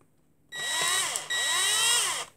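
A power drill bores into metal while restoring a Majorette model car, two close, high whining bursts, each spinning up and holding steady, with a brief dip between them.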